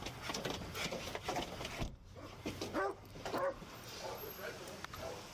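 A dog barks a few times in police footage, partly masked by people talking over it and by background noise.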